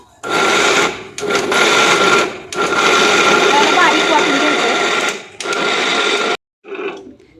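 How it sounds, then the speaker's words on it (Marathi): A mixer grinder grinds jaggery for a jaggery and peanut flatbread filling, a loud, steady high whir running in long bursts with brief stops between them before it cuts off near the end. "दोन वाट्या गुळ तर आता हे पण वाटून घेते"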